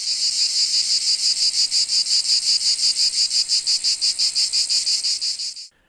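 A buzzing, cicada-like dagger sound from a TV trailer pulses in fast, even bursts, loud and alone, then stops abruptly near the end.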